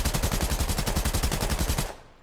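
Rapid automatic gunfire from new guns in the video game Ballistics, a steady stream of loud close shots in even rhythm lasting about two seconds before stopping abruptly.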